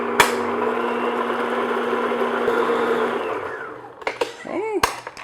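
An electric mixer beats an egg into snickerdoodle batter with a loud, steady whirring drone for about three seconds, then stops, followed by a few clinks and a voice.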